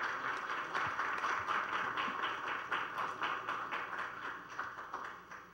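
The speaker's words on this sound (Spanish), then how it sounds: "Le damos un aplauso, por favor." Audience applause at a youth political debate contest in Quintana Roo, a dense steady patter of many hands clapping throughout, fairly close, tapering slightly toward the end.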